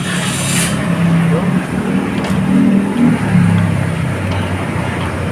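An automatic-transmission car engine runs steadily with a low, droning hum that rises and falls slightly, staying close and continuous throughout, with no clear start crank.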